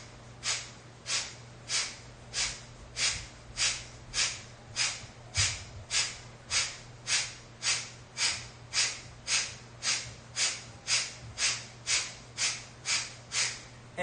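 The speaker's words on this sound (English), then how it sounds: "Let's do some Kapalabhati," Kapalabhati yoga breathing: a long, steady run of forceful, sharp exhales through the nose, about two per second, close and even in rhythm, with no talking.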